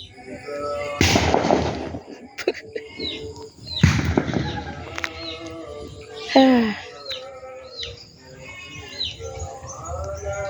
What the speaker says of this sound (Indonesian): Yuk kita nikmati keseruannya, suaranya, petasan anak-anak bagaimana serunya.